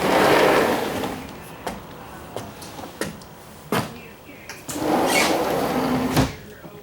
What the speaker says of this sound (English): as we come on around to your entry door, sliding glass door, we'll go inside